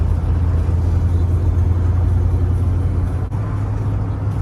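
A 1994 Mustang GT 5.0 V8 idles with a rev hang, a loud, steady low rumble heard up close, briefly dipping near the end before settling back.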